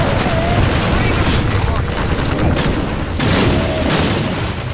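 Heavy, continuous gunfire and booming blasts in the Half-Life 2 Episode 2 video game: a loud, dense barrage with no pauses, with voices faintly audible beneath the noise.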